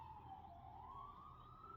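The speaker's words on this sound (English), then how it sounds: "oh my god, the ambulance." A distant ambulance siren wails faintly, its pitch sliding slowly down and back up over steady background noise.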